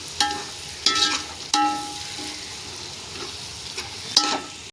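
Yogurt goes into a pan of frying tomato and onion for mutton biryani, giving a steady hiss broken by a few sharp scrapes and clatters of the spoon, close and loud with no voices.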